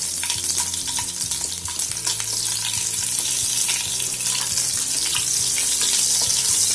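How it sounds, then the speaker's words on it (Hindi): Green chili frying in hot mustard oil, a loud steady sizzle and crackle with occasional spatters, close and continuous with no talk. "तेल हमारा गरम हो चुका है। इसमें भी ग्रीन चिली"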